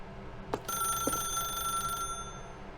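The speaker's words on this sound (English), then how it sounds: "then pick up the phone" An office telephone rings in The Stanley Parable Ultra Deluxe video game, a clear bell tone starting after two soft knocks and sustaining for about a second and a half before cutting off, with no talk over it.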